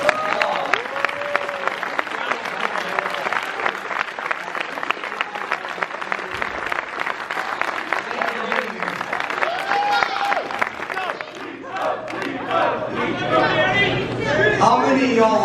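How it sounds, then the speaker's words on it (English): A convention crowd at an anime fan event breaks into a long round of applause, with steady dense clapping, cheering and chatter lasting throughout, and a voice speaking over it partway. "Please, let's give a round of applause."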